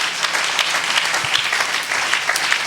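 Church congregation at a French-language sermon clapping together in a steady, dense burst of applause that fills the room for a few seconds, with no voices over it.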